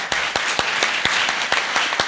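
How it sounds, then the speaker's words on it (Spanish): Audience applause at a Catalan book launch, a dense wash of clapping with sharper individual claps standing out at a steady uneven rhythm, fairly loud and close throughout, with no voices over it. "un aplaudiment als meus companys, sisplau"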